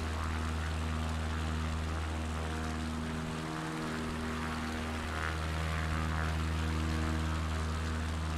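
Propeller airplane in flight near Kodiak, a steady loud engine drone with strong low harmonic hum that holds unbroken throughout, no talk.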